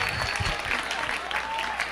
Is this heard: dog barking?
no